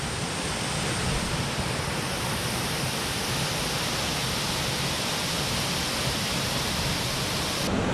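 A loud waterfall roars nearby with a continuous dense hiss and rumble, steady and unbroken throughout, with no voices.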